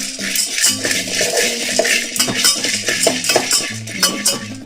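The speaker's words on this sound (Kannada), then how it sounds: "ಊರ್ಗಡ್ಲೆ ಇದನ್ನು ಕೂಡ ಸಿಮ್ಮಲ್ಲೇ ಫ್ರೈ ಮಾಡ್ಕೋತಾ ಇದ್ದೀನಿ" Urad dal is fried and stirred on low heat in a pan, a utensil scraping and clinking steadily against the metal with an underlying sizzle, close and continuous, with no voices.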